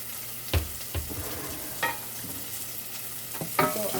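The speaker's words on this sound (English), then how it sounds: "So I'm just letting this saute, the onion saute" Onions saute in a pan before curry and rice are added, making a continuous close sizzle broken by a few clicks and scrapes of stirring, with no talking.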